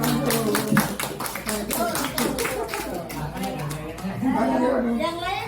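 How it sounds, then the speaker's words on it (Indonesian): Clapping from a class audience at a teacher's positive-discipline dissemination session: a burst of quick, dense hand claps fills the first few seconds, then thins out, with voices chattering throughout. "Tepuk tangan dulu."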